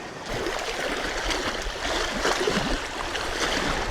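Cold lake water splashes and trickles steadily as someone bathes outdoors in spring, a close, continuous watery wash with no talking.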